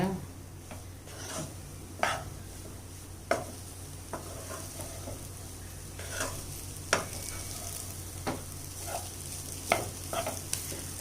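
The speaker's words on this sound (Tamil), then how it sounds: "இப்போ கொத்தமல்லி இலையை தூவி சாதத்தை நல்லா வதக்கி விட்டுக்கோங்க." Leftover rice stir-fried with green masala and coriander leaves, a soft sizzle under repeated scraping spatula strokes that land every second or so against the pan.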